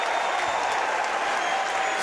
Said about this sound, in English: Standing ovation for Parker Hovey.